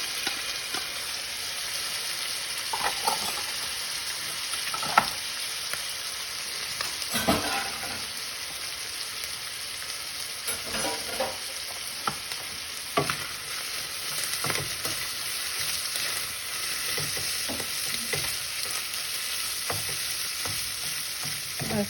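Onions sauté in a pan for gorditas and rice, giving a steady close-up sizzle with scattered crackles and a few scraping stirs, and no talking.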